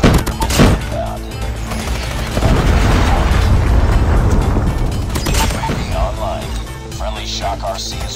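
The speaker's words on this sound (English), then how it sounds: "Friendly predator missile inbound." A predator missile explodes in a Call of Duty-style shooter, a loud, sustained rumbling blast that swells over a few seconds amid scattered gunfire pops, with game voices and clatter around it.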